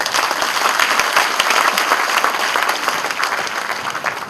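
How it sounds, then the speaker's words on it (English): A crowd at an induction ceremony applauds a presenter, giving a loud, continuous burst of many hands clapping together that keeps up the whole time and thins a little at the close. "ask you to please give him another round of applause."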